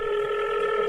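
A telephone ringback tone plays as a single steady electronic tone for about a second, clear and alone with no voices.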